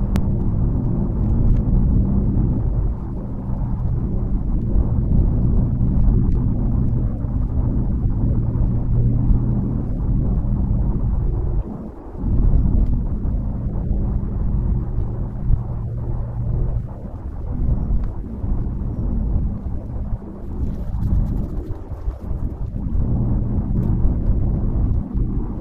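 A BMW i8 pulls uphill under load, its engine and road noise forming a loud, continuous low rumble with wind buffeting. The drone holds steady, dips briefly midway, then resumes. No one speaks over it.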